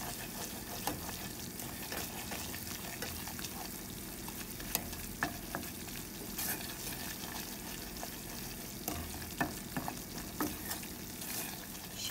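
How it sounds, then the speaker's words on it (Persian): Flour toasting in a pan for béchamel, a soft continuous sizzle with light scraping of stirring and occasional small ticks, fairly quiet and steady throughout. "آرد رو یه مقدار تفت میدیم تا بوی خامی آرد گرفته بشه"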